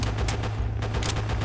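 Machine gun fire in Call of Duty: World at War: rapid, dense bursts of gunfire over a constant low rumble, loud and close, a short continuous volley without speech.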